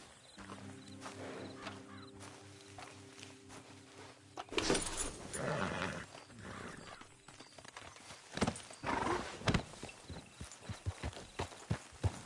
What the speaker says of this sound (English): I don't see horses this fat too often.